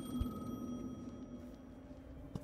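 In Alan Wake II, a phone's ring tone sustains quietly against a dark ambient drone, with a soft thump near the start and no voices.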